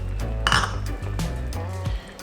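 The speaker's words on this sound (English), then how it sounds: "I'm going to be add some of this coconut milk, and I'm going to stir it around." Stirring coconut milk into Jamaican curry chicken in a pot, with a continuous low simmering rumble and a few clinks of the spoon against the pot, close by.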